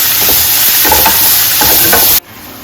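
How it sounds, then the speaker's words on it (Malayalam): Capsicum and carrot stir-fry in a pan with a loud, close, hissing sizzle, broken by several rhythmic spatula scrapes, then abruptly drop to a quieter background near the end. "ക്യാപ്സിക്കം, ക്യാരറ്റ്, ഇത് ഇത്രയും ഇട്ട് കൊടുത്ത് നന്നായിട്ട് ഇളക്കി ഒന്ന് വഴറ്റിയെടുക്കും."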